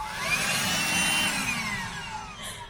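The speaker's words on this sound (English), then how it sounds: "it's basically a vacuum cleaner for water" A handheld window vacuum whines steadily up close as it sucks moisture off a van windscreen, its motor pitch drifting slightly over nearly three seconds with no talking.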